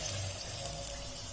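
Water in a small bowl where a burning moxa stick is put out, a close, steady watery rush like running liquid lasting a moment, with no speech over it.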